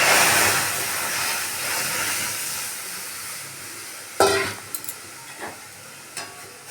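Milk poured into fried semolina in a hot pan sets off a loud, steady hissing sizzle that slowly settles, then a few sharp clinks and stirring knocks near the end.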